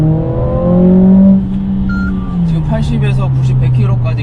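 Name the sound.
Mercedes-AMG CLA45S engine accelerating hard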